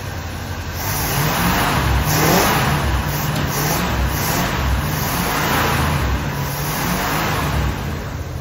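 A 1966 Imperial Crown's engine runs steadily and loudly close by, holding a constant mid-pitched drone with gentle swells in revs and no voices.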